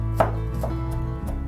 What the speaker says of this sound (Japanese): その間にふきのとうを、まあ、ある程度葉を取って粗く刻みます